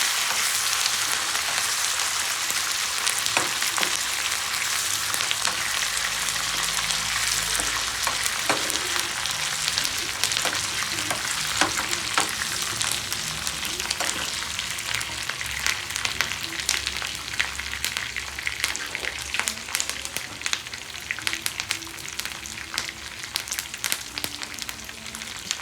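Tempering of peanuts, dals, cumin, green chillies and curry leaves frying in hot oil for pulihora, a dense continuous sizzle with scattered pops and crackles, close and steady throughout.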